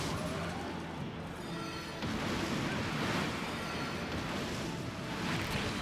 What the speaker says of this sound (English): 3 beam attacks that basically shoot water lines right across the area, and those explode in like geysers underneath after a moment